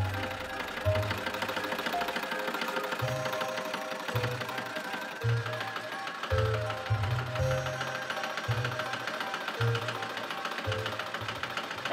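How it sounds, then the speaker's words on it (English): A sewing machine hems fabric with its needle running in a steady, fast mechanical chatter, stopping and restarting in short bursts of stitching, close and without talking. "I finished the hem with a machine."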